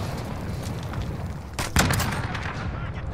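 Gunfire in Call of Duty: Modern Warfare: a sharp, loud burst of shots cracks out midway through a busy bed of game noise and faint distant shooting.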